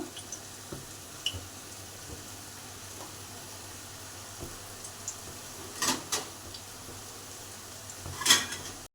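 Two dried red chillies fry in hot oil in a home kitchen, a quiet, steady sizzle punctuated by a few sharp clinks of a utensil against the pan.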